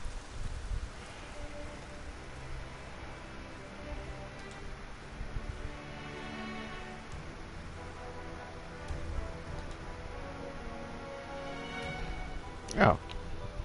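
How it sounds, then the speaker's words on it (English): Soft, steady rain pours in a fantasy fighting game scene in Albion, a faint continuous hiss under layered music and ambience, with a sharp bright strike near the end. "Rain continues to pour in Albion"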